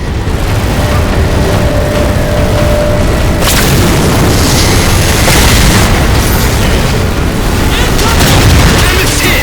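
In Halo 4, the armored Mammoth vehicle takes a hit amid a constant roar of heavy booming explosions and battle noise, loud and dense throughout, with a sharp impact partway through.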